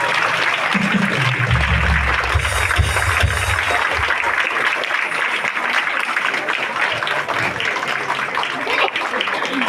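Audience at a Bengali gathering claps loudly and continuously for a guest, a dense sustained applause with a voice speaking over it at the start.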